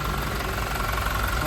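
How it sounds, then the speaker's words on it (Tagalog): A Toyota Fortuner Limited Edition diesel engine of about 2.8 litres idles close by with a steady, even rumble and faint knocking, heard alone without talk. "So ito yung kanyang makina mga boss."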